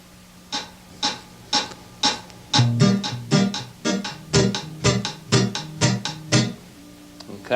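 An overdubbed guitar part played over a rim shot click track, with plucked notes and chords falling in a steady rhythm alongside regular sharp rim clicks, close and clear with no talk.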